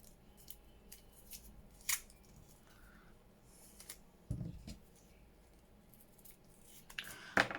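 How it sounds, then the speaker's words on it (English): Scissors snip through the end of a paper strip while making a ring-bound junk journal, a few sharp isolated cuts spaced apart over quiet room tone with small handling rustles. "let me cut this end off"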